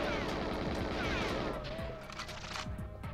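Rapid gunfire from GoldenEye 007 multiplayer on the N64, a dense burst of repeated shots for the first half, then sparser bangs trailing off among game sounds.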